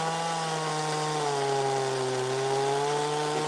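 A chainsaw cuts into a big tree stump during carving, a loud, close, continuous engine whine that sags in pitch mid-cut under load and then climbs back.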